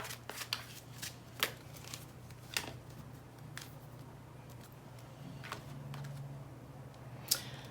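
Tarot cards are handled and shuffled, giving soft scattered flicks and a few sharper snaps over a steady low hum, quiet and close with no speech.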